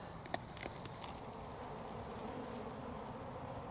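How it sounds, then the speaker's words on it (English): A steady, soft drone of many bees buzzing together in a full hive, quiet and continuous with no voices. "full to the brim of bees"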